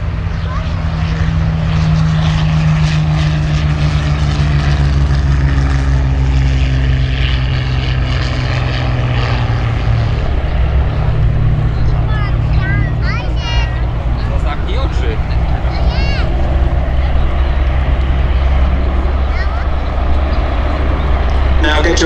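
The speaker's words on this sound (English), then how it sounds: "So the Hurricanes are airborne, which clears the runway for the big shot" Pair of Hawker Hurricane propeller fighters taking off at an airshow, a loud sustained engine roar with slowly changing pitch, while an announcer talks over it throughout.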